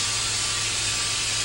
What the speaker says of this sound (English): I proceed to spray oil on the fucking fridge door.